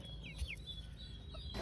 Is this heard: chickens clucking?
yes